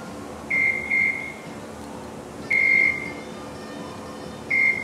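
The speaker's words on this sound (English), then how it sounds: "Wait for the beeps." A timer sounds a few electronic beeps, one short pair followed by longer single tones, over a quiet background hum.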